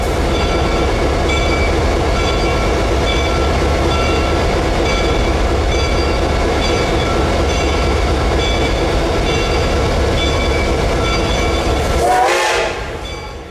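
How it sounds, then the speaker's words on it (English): Reading & Northern 425, a 1928 Baldwin Light Pacific 4-6-2 steam locomotive, passes loudly and close with a sustained heavy rumble and rhythmic wheel clatter, then drops away sharply near the end. "425 is a Light Pacific Class 462 type locomotive built by Baldwin in 1928"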